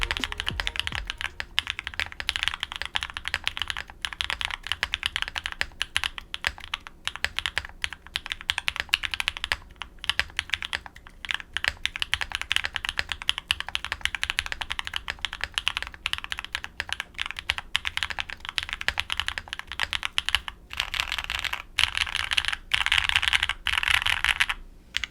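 Continuous, fast typing on a Mode Tempo mechanical keyboard fitted with added PE foam, a dense close-up stream of crisp, muted clacks with a deepened, bassy tone and no talking.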